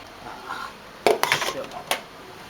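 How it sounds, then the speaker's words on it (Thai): Freshly washed dishes and spoons are put away by hand, with a few sharp clinks and clatters of cutlery and bowls knocking together up close after a quiet start. "ล้างจานนะครับ ล้างเสร็จแล้วครับ เก็บช้อนเรียบร้อย"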